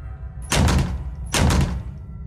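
Two heavy bursts of pounding on a dormitory room door at night, each a loud cluster of dull thuds, separated by a short pause, with no voices.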